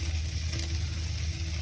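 Tomahawk ribeye steaks searing hard in a hot pan give a loud, steady sizzle and crackle that holds evenly throughout, with a faint low hum underneath and no talking.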